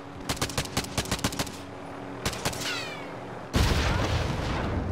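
Bursts of automatic gunfire in the Call of Duty Warzone video game, a rapid string of shots followed by a short pause and a couple more, then a loud sustained roar of noise at the end.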